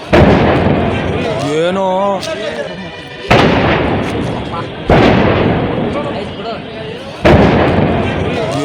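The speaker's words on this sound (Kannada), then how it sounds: "ಸಿಲಿಂಡರು ಅಥವಾ ಒಂದು ಬಾಂಬ್ ಬ್ಲಾಸ್ಟ್ ಆದಂಥ ಸಂದರ್ಭದಲ್ಲಿ ಸೌಂಡ್ ಬರುತ್ತಲ್ಲ, ಅದೇ ಥರ 1-2 ಬಾರಿ ಢಮ್ ಢಮಾರ್ ಅಂತ ಸೌಂಡ್ ಬಂತು" Explosions burst from a fire at a perfume warehouse in Makali sparked by a short circuit: three loud, sudden booms a second or two apart, each rolling off into rumble, while people talk nearby.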